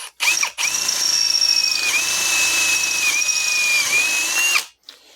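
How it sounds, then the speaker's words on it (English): A close power drill in drill mode whines at a high, steady pitch as it bores through metal greenhouse bracket material for several seconds, then stops abruptly. "I'm going to switch it over to drill mode on a 2-speed. Line that drill in the center."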